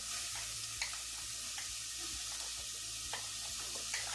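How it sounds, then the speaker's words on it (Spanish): Chopped onion frying in hot oil in a pan for a homemade fava bean soup, with a soft steady sizzle, faint crackles and occasional light stirring taps, heard close and alone. "Vamos a poner a citronar toda nuestra cebolla."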